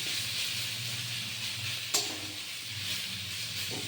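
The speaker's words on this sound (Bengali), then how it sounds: "এটা ধীরে ধীরে এই শাকের সাথে এটা ভাজা হবে" Bori lentil dumplings fry with greens in a pan, giving a soft, steady sizzle and hiss with a brief stir clink partway through, quiet and with no voices.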